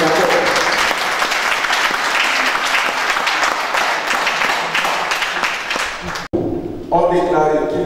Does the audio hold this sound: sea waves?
no